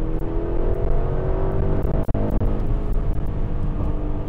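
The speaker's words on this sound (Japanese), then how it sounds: "さあ中間加速、レディーステディーゴ" A Porsche Cayenne Turbo GT engine pulls hard through mid-range acceleration, a loud, steady rising roar heard from inside the cabin, with a brief dip near the middle as the gear changes.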